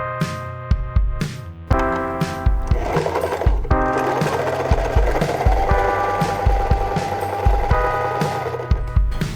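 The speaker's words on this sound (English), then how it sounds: "So you're gonna do a row of gathering stitches from those 2 points across the bottom of the hood." A sewing machine runs a row of gathering stitches on a vintage 1940s-style hood, a steady mechanical hum with a sharp, regular ticking of the needle, close and continuous throughout.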